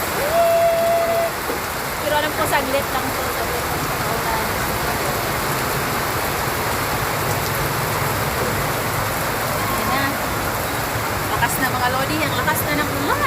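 Heavy rain pours down steadily outdoors, a loud dense hiss of water falling on surfaces that continues throughout, while someone speaks briefly over it.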